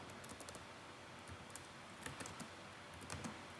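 Computer keyboard keys tapped in quick irregular bursts while typing an SQL subquery, a close, quiet clatter of clicks with short pauses and no voice.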